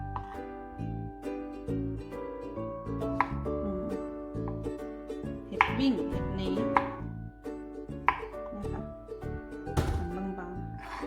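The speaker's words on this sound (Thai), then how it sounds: "เห็ดที่เราได้มาเราก็จะหั่นครึ่งก่อนนะคะ หั่นครึ่งแล้วก็หั่นแบบนี้ค่ะ" A knife taps rhythmically on a cutting board, thinly slicing honeycomb mushrooms, with background music playing throughout.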